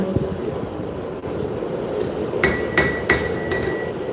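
At a live forging demonstration at a Texas show, a 4.5 pound forging hammer strikes hot metal on an anvil several times with sharp ringing clangs over a steady background hum.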